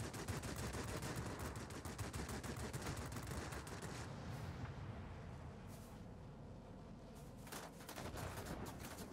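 Rear gunner machine guns on bombers in a video game rattle in rapid, continuous bursts, densely layered and loud at first, then thinning to scattered shots as the firing tapers off.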